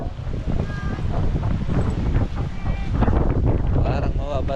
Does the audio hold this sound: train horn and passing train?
no